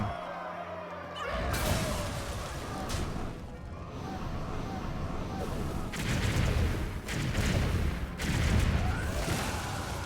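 Loud, dense explosions from a video game combo fill the whole stretch, with booming blasts and crackling gunfire-like bursts that swell in waves and come in several heavy surges near the end.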